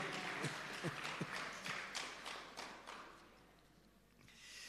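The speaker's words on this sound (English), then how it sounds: "Give them a clap." Faint, scattered clapping from an audience at a rebranding and quality recognition ceremony in Jamaica, a few distinct claps fading out over several seconds in a quiet hall.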